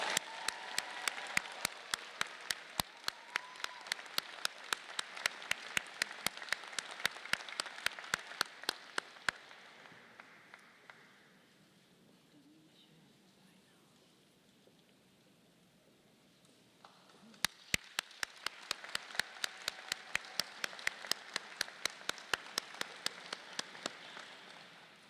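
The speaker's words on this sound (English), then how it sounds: "Can we give them a round of applause?" A crowd applauds at a medical school commencement ceremony. Sustained clapping is followed by a quiet lull, then a second round of steady applause.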